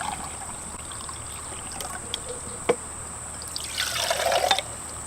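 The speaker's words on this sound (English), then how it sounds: "I'm going to put 1 cup of water in the JetBoil." One cup of water pours into a JetBoil camp stove pot in a short, splashy trickle near the end, after quiet moments broken by a small knock.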